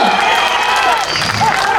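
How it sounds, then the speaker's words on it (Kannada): A standing crowd claps and cheers for Shivarajkumar at the grand trailer launch of the Tulu film VIP's Last Bench in Kudla, with dense, continuous applause and whistles and shouts rising over the roar. "ಎದ್ದೇ ಚಪ್ಪಾಳೆ ಹೊಡೆದ್ರಿ ನಮ್ಮ ಶಿವಣ್ಣನಿಗೆ"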